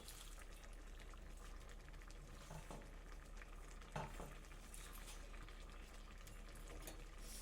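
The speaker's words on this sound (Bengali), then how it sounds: "শাকটাকে দিয়ে একটু নাড়াচাড়া করলেই শাকটা কমে আসবে।" Spinach being stirred into a lentil curry in a pan, with a steady soft sizzle and scraping of the spoon throughout, plus a couple of louder knocks against the pan.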